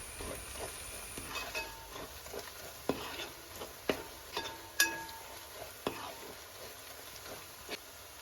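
A spoon stirs chicken curry in a non-stick pan, giving soft scraping strokes and occasional clinks that repeat at irregular intervals under a low kitchen hiss.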